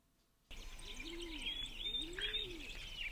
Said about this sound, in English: Look, a bird has come to guide our way home.